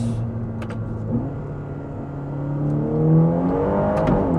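A Ferrari Roma engine revs and drops through several manual downshifts, rising and falling tones with a deep tone, fairly close and moderately loud.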